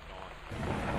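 Thunderstorm with rain in Gone Home, a steady hiss of rainfall with a low thunder rumble swelling in partway through, fairly loud and without talk.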